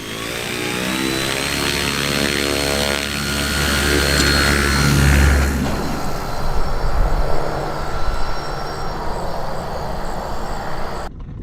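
A homemade electric ultralight airplane's propeller drones steadily during takeoff, a sustained buzzing hum with shifting pitch that later gives way to broader rushing wind and engine noise, with no talk.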